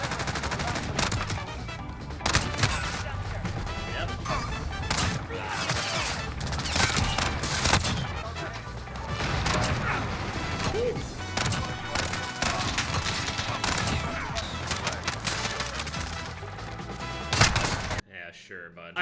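Dense, continuous gunfire from Call of Duty on the small Shipment map, rapid overlapping shots and bursts sounding throughout at steady loud level before cutting off abruptly near the end.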